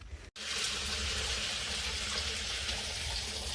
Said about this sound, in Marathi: तर आता ड्रम भरत आलेला आहे